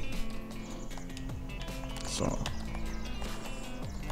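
A horse in the video game Farming Simulator 19 on a pasture, hooves clopping steadily and a brief whinny midway, with a soft voice and game ambience in the background.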